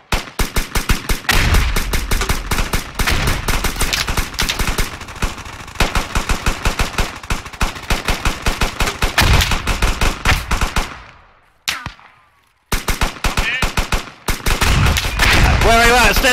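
Dense, sustained video-game gunfire in a squad combat match, rapid machine-gun bursts and overlapping shots rattling almost continuously, broken by a brief pause near the end before firing resumes.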